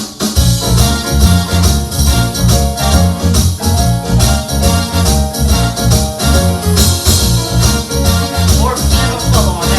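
A full style arrangement played on a Williams Symphony Grand digital piano, minor section with a steady driving beat, bass and layered keyboard parts, loud and continuous without talk.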